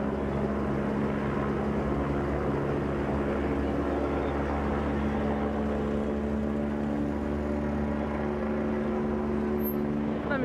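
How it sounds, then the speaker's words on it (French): A helicopter overhead at an outdoor gathering in Bobigny, heard as a loud continuous droning engine rumble with a steady throbbing rotor tone that holds level throughout. "un hélicoptère juste en haut qu'on entend"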